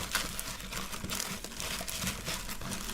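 Pokemon card packs being shuffled and mixed by hand, giving a steady close crinkling and rustling of foil wrappers with small taps, continuous and fairly quiet without talk.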